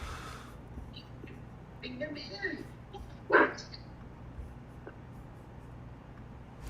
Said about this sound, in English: somebody's dog's barking